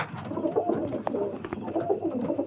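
Pigeons coo in a steady, overlapping murmur at close range, soft throaty calls layered over one another with no voices present.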